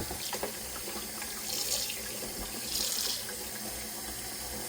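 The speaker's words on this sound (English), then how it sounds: "Now I'm going to wash my strawberries up." Running tap water splashes steadily into a sink, with brief louder surges as strawberries are rinsed under the stream.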